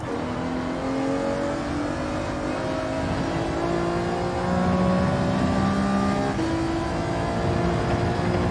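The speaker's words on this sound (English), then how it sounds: "Maybe revving up the car." Race car engine in the Gran Turismo 7 racing video game, revving and accelerating steadily with rising, shifting tones, loud and continuous with no talk.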